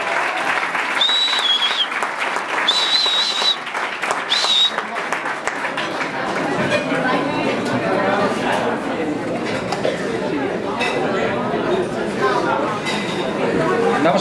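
A crowd at an acoustic concert in a Fnac store claps steadily and loudly, with chatter and faint clinks mixed in and a few high whistles early on.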